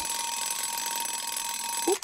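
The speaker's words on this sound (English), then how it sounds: "Oh, there goes my alarm." An alarm clock in a cartoon rings with a rapid, continuous electronic trill, followed by a brief squeaky voice-like blip as it ends.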